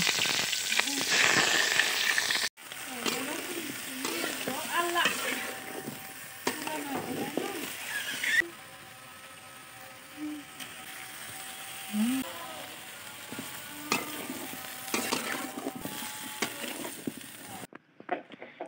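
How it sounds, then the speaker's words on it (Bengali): Mustard oil sizzles steadily as vegetables fry in a wok, with occasional scraping and stirring clatter; a quieter stretch midway before the sizzle continues. "আমি সরিষার তেল দিয়ে সবজিগুলো এক একে ভেজে নেব"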